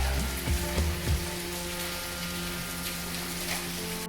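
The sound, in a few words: torrential rain at a hotel in South India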